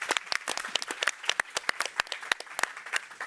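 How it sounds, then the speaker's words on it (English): A small audience claps for a competition winner at a science summit session, a fairly quiet patter of distinct individual hand claps, uneven and close together, carrying on for a few seconds. "I think that deserves a round of applause."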